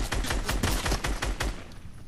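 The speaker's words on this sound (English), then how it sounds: "They're shooting their own." Rapid bursts of automatic gunfire in a video game, loud, close and evenly spaced, about a dozen sharp shots in two seconds.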